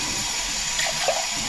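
Cold water runs steadily from a household tap while beef fat is being purified into tallow, making a continuous close hiss and splash with no talking.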